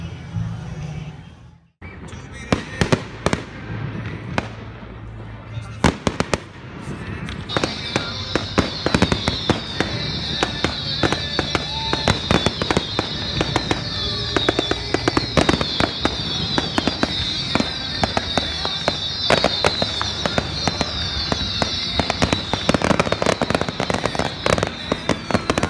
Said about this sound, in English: we went to see the town fireworks over at Pomona College